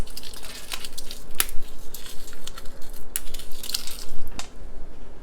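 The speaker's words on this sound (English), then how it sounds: "I'm gonna go ahead and break these chilies." Crisp snapping and crackling of dried chilies being broken by hand, several sharp cracks scattered over a few seconds, close up.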